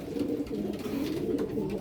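Soft, low pigeon cooing continues steadily, close by, with a faint rustle of background noise and no talking.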